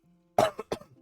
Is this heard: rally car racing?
no